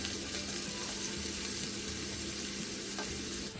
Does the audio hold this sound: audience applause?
no